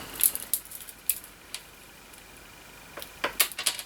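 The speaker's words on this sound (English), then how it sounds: "I cut 2, and I use the scissors" Several short, crisp snips of scissors cutting card paper close by, in two quick bursts separated by a quiet pause.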